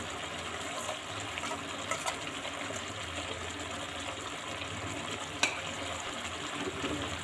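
Chicken curry masala with coriander powder, garam masala, ginger-garlic paste and black pepper being stirred and fried in a pan, a steady soft sizzle with faint scraping and one brief clink.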